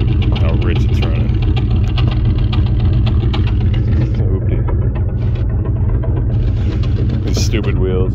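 A 1981 Chevy K30 pickup with a 350 V8 idles steadily while warming up on a cold winter morning, running rich, a loud continuous low rumble close by with no break throughout.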